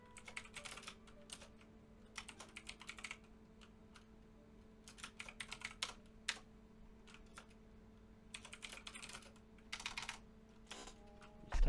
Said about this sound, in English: Typing out some notes so I can pull a video out of that for that sit and go.